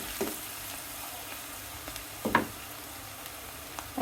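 Sliced onions with green chilies and salt sizzle quietly in a pan for a bitter gourd fry, a low, even hiss broken by a few sharp spatula clinks near the middle.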